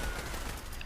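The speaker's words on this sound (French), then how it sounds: "Attention, on est pris sous les tirs." Gunfire in the video game Fallout 76 during a firefight with robots and a turret, a brief burst of shots over dense, steady noise with no talk.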